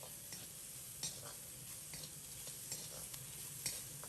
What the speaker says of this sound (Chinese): 放入辣椒，在锅中煸炒1分钟，把辣椒稍微炒出虎皮